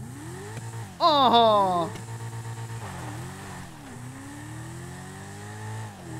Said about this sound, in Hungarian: Egy 4-es motort tudunk. Jézusom, milyen hangja van.